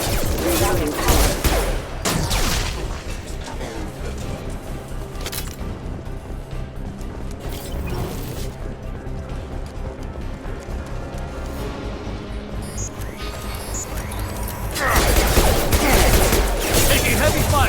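A Mass Effect 2 firefight: dense bursts of heavy gunfire rattle continuously at close range, loud and chaotic, swelling again near the end.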